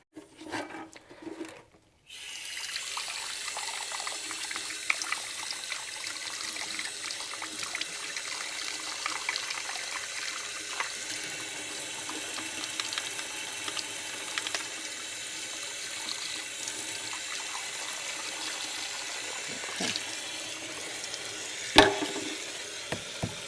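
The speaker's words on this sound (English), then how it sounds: "So I'm going to go wash out all of that mud and all of this corrosion here" Tap water runs over a Yanmar 1500 engine part, washing away mud and corrosion in a steady, soft trickling stream that begins after a brief clatter and continues under occasional faint clinks.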